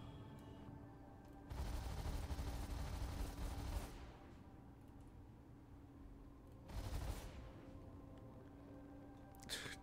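Laser repeater ship weapons fire in the Star Citizen 3.23 space game: two faint bursts of rapid repeating shots, the first longer and the second shorter, with a brief trailing snap at the end.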